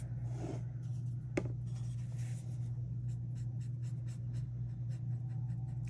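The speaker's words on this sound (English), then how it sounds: "a little technique to use your blender pens" A blender pen colouring card stock for a stamped dragonfly garden card, a faint, close scratching and soft stroking that goes on steadily, with a few quick light strokes toward the end.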